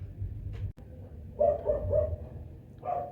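Several dogs bark nearby in a burst of repeated woofs, with a pause and then more barks toward the end, loud and close against a low background rumble.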